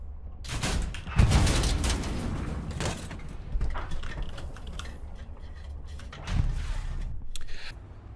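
Anti-tank gun shells fired in the video game Hell Let Loose: two heavy booming blasts, one early and one later, over a constant rumbling battlefield bed with mechanical clicks and creaks in between.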